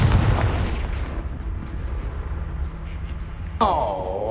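A Confringo fire spell in Hogwarts Legacy bursts in a loud, booming explosion at the start, its rumble fading out before a brief swirling magical whoosh near the end.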